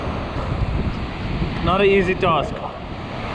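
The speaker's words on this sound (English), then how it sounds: "Super difficult, especially with this east wind straight in your face." Strong east wind gusts across a surf beach with breaking waves, a steady broadband roar and buffeting on the microphone throughout, while someone speaks briefly in the middle.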